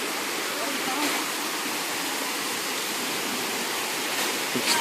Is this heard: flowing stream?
yes